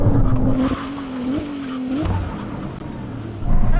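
A Porsche 911 Turbo S and a Ferrari 296 in a drag race: a loud engine note climbs and shifts under a brief tire squeal, then a second surge of engine roar close by.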